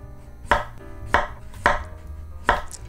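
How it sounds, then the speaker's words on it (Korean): A knife cutting sweet potato into thin julienne strips on a board, four sharp, evenly spaced chops rising over a low background hum, close and distinct. "이제 채를 썰어 보겠습니다"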